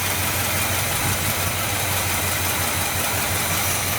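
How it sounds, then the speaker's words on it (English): A 1970 Buick Wildcat engine idling on a freshly fitted Quadrajet carb, with a steady low rumble and a continuous puffing exhaust leak, loud and close, no talk. "Back there you can hear the exhaust leak."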